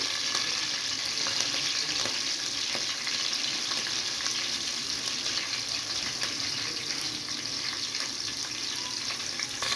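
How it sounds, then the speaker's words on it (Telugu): Green chillies fry in a pan, giving a steady, hissing sizzle with faint stirring clicks. The sound is moderately quiet and continuous, and no one speaks. "పచ్చిమిర్చి వేసుకోండి ఫస్ట్. చూడండి, ఇలా వేయించుకుంటుందండి."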